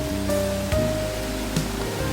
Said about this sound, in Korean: 이곳이 복호동 폭포고요. 수량은 엄청 많고요.